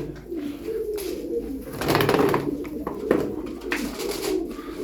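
Tumbler pigeons cooing nearby, soft repeated throaty coos with some rustling in the background.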